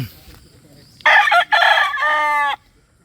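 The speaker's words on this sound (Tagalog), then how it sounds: "Another broodcock naman ulit to. Abunayon straight comb." An Abunayon straight comb broodcock crows once, loud and close, a strong harmonic call of about a second and a half with a brief break, preceded and followed by quiet background.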